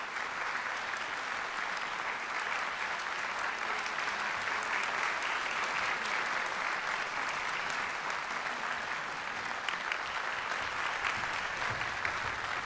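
Sustained audience applause fills a Polish vocal competition award ceremony at an opera and philharmonic hall, a dense, steady clapping from a large crowd holding at an even level throughout with no break.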